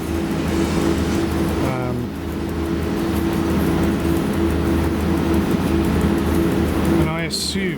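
A train in the SimRail driving game hums with a steady low engine drone and cab air noise, with brief tonal warble sweeps near the start and end while someone talks over it.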